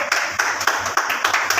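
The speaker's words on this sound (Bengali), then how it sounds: "হাততালি জোরে" Scattered audience clapping at a district conference in South 24 Parganas, a burst of uneven claps rising and falling in several waves, with a faint voice underneath.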